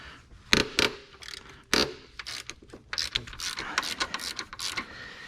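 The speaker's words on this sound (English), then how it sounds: "we're gonna take 16mm socket. We're gonna break the bolt loose up here." A 16mm socket breaking loose an alternator-area bolt on a 1999-2005 BMW E46 3 Series, with close ratcheting clicks and metallic knocks in quick irregular bursts.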